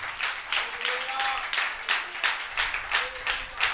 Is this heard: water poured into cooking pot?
no